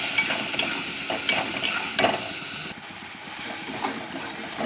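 Spices for a stingray fish curry (Kashmiri chili powder, turmeric and salt) stirred in a hot pan: a close, continuous sizzle broken by several scraping stirs, no talking.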